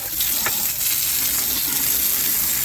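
A fresh water spigot with a plastic nozzle spraying onto a boat deck, giving a steady hissing, splashing rush with a small spatter near the start.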